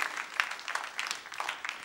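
Scattered applause from a dance competition audience for a soloist preparing to perform, irregular bursts of clapping at moderate level with a faint voice mixed in.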